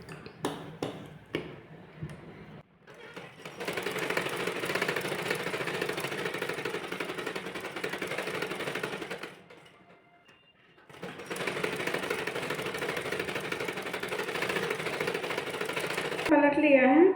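A sewing machine stitches the front piece of a blouse near the neckline, first a few light clicks, then two long runs of fast, even whirring separated by a short pause, close and clear.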